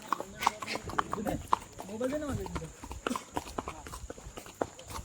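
Steady clip-clop of horse hooves trots along close by in Matheran while a person speaks over it, the hoofbeats continuing through the talk.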